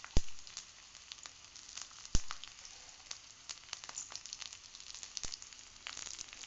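Garlic frying in a pan with browned coconut, a steady soft sizzle with scattered sharp crackles and a few louder pops, close and alone.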